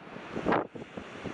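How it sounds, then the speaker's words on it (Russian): Strong wind on the Laptev Sea coast buffeting the microphone, one loud gust swelling then cutting off, followed by softer rumbling gusts, with no talk. "Но тут и ветер сильный."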